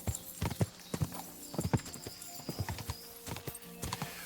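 Horse hooves clip-clop along a road in the video game Kingdom Come Deliverance 2, a steady trotting rhythm of close, sharp hoofbeats with no one talking over it.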